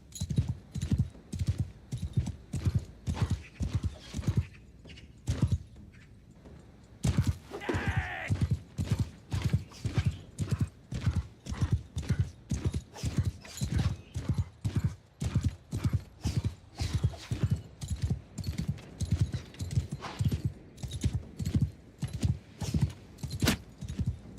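In a video game, rapid, steady hoofbeats of a galloping horse pound on without pause, with a brief lull and a short whinny partway through.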